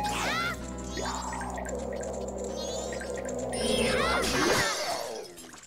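Spring water dripping and trickling inside a well in Zelda: Majora's Mask, with bright plinking droplets over a steady watery wash and a swelling echo, continuous and moderately loud.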